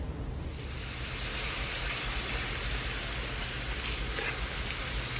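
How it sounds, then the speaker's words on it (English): Chicken livers and shallots sautéing in a pan make a dense, continuous sizzle and hiss, steady and close throughout, with no voices. "we're gonna go back and check on our sauteed livers and shallots"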